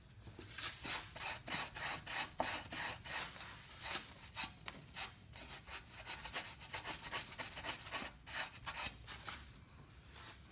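Rhythmic scraping and rubbing as the gasket surface is cleaned for the upstream oxygen sensor on a 2001 Toyota Tacoma, quick repeated back-and-forth strokes, close and moderately loud with no talking.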